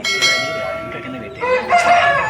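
A rooster crows at a busy chicken market in Vijayawada on a rainy day, its loud, drawn-out call rising in two strained phrases close by.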